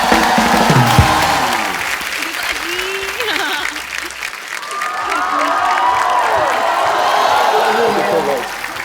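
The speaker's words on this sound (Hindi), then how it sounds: "जोरदार तालियां एक बार टाइगर और जैकी के लिए" Studio audience of the comedy talk show The Kapil Sharma Show breaks into loud, sustained applause with cheering, and voices call out over the clapping throughout.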